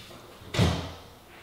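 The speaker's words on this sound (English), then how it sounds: "then you've got these cool doors that can close the space off." Closet doors in a modern loft slide shut with one quick, firm thud that rings out briefly in the quiet room.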